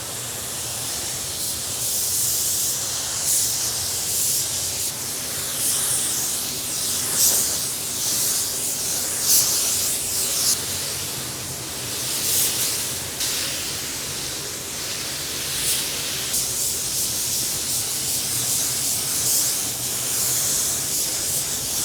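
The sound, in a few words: 1K etch primer sprayed from a can on bare metal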